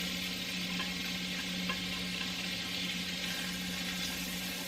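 Butter and onions sizzle steadily in a hot pan for creamy garlic chicken pasta, a constant close crackling hiss without talk, holding even in loudness throughout.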